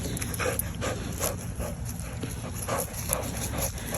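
A dog pants in a backyard, with quick rhythmic breaths and soft repeated patters running steadily through the clip against a constant hiss.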